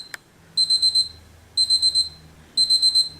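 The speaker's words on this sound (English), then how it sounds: "So I'm going to turn off the timer." Kitchen timer alarm going off while bean soup cooks, sounding in three separate bursts of rapid high electronic beeps, each about half a second long and a second apart, loud and close with no talking.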